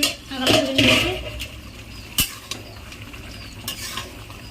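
Duck curry is stirred in a pot with a utensil, giving a few close scraping strokes near the start. Soft clinks and a faint simmer follow, with no talking.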